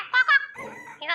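A cartoon hen named Goldie gives a short burst of squawking clucks in a zoo setting, close and fairly loud, between lines of excited talk.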